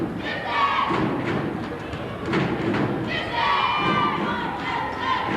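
At a 1995 high school boys basketball game, Norristown cheerleaders yell a rhythmic chant with stomps and claps, their voices echoing through a noisy gym crowd while an announcer speaks.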